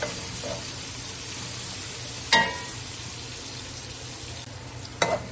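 Onions with garlic fry in butter in a pan, giving a steady soft sizzle broken by two sharp clatters of a utensil against the pan.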